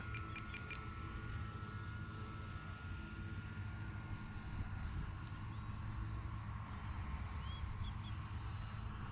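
An RC model Tecnam 2010 airplane on its maiden flight, a steady distant propeller drone holding at an even level throughout, heard outdoors with no talking.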